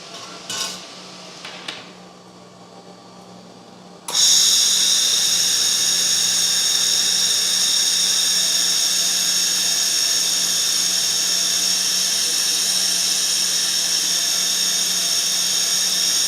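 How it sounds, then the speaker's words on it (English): A GWEIKE M 6-in-1 machine welding 1 mm material: after a few soft clicks and handling sounds, a loud, steady high-pitched hiss and whine starts abruptly and continues unbroken. "Okay, let's do the welding."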